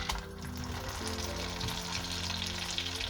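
Potato pancake frying in melted butter in a pan, a steady close sizzle running without a break, with a faint low hum beneath.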